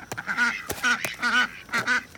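Several ducks quack loudly at close range on a backyard farm, with three distinct rounds of nasal, honking calls separated by short pauses.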